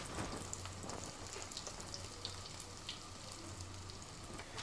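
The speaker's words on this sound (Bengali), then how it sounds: "পেঁয়াজু ভাজা হচ্ছে।" Onion pakoras (piyaju) fry in hot oil for an iftar meal, a soft, steady sizzle with light crackles throughout, quiet and close.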